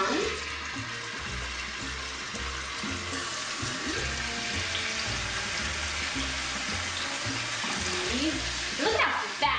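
Tuna steaks, seasoned with salt and pepper, sear in a hot pan with a steady, close hiss and crackle that holds for the whole stretch, with a few clatters near the end.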